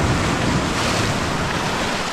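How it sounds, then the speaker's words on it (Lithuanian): Ocean waves surging against a rocky shore, a loud continuous roar of churning water with wind buffeting the microphone, no voices. "Kodėl tos bangos nemažėja?"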